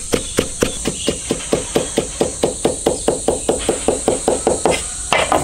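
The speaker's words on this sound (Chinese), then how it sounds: "生姜切丝。" A knife cuts ginger into thin strips on a cutting board with fast, even chops, about four per second, close and crisp, with no talking.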